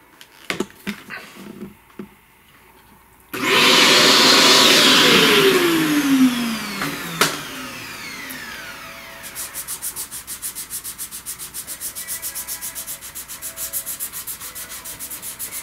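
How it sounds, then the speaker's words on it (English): Vacuum cleaner sucking up pastel dust after a pastel flower drawing: a few clicks and handling noises, then the motor switches on with a loud, steady rushing whine that eases to a lower, pulsing hum as it runs on. "let's vacuum that."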